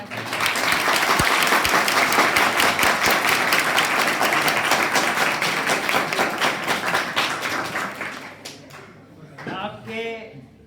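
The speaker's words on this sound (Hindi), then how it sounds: "आपके इन तालियों के आकाश का बहुत बहुत आभार।" Audience applause after a Hindi poem recitation in a stress management talk, loud sustained clapping from a large crowd that gradually thins and stops, followed by a speaking voice at the end.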